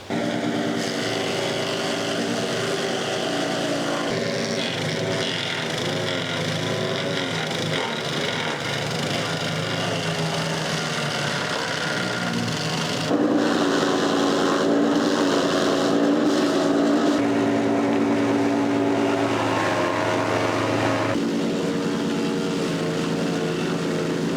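A garden wood chipper shreds dry, fallen palm fronds, its engine roaring loud and continuous, with the pitch and grind shifting as the fronds are fed in and chewed up.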